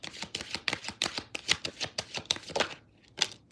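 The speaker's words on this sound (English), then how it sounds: "That was a short shuffle." Tarot cards shuffled quickly in a short burst, a rapid run of crisp riffling snaps and flutters at close range, with no talking.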